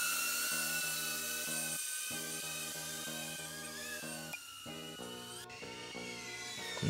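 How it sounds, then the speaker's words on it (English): A DJI Avata drone flies in manual mode during hard yaw tests, its propellers producing a steady, high whine with tonal harmonics that shift pitch and briefly drop out, heard continuously and fairly close. "the Avata does this when you do a hard yaw in manual mode"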